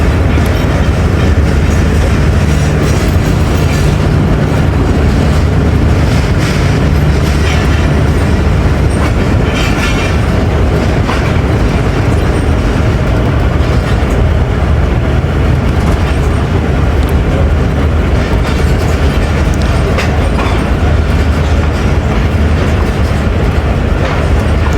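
A passenger train pulling out of a station in Pakistan, a loud continuous rumble of wheels rolling on rails with steady clatter and low-frequency roar throughout, no voices.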